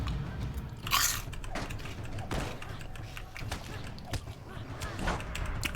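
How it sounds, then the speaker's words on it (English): Pork rinds (chicharrones) being bitten and chewed up close, with a loud first bite followed by a rapid series of crisp crunches and crackles that keep going steadily. "Chicharrones have a nice loud crunch."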